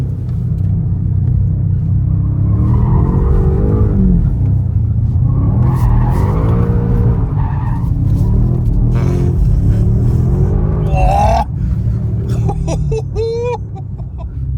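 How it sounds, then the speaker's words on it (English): A BMW M5 G90 spins its wheels under hard acceleration, with a loud, close engine roar that rises and falls through the gears and a brief tire squeal near the end. "Now you have wheel spin in every gear until the 4th gear, which is insane."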